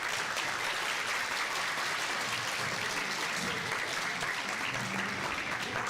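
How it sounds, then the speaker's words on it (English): A large audience at a school honours day applauds steadily, a dense, even wash of many hands clapping that holds at a constant level throughout, with no voices standing out. "Let's give one final round of applause for everyone involved."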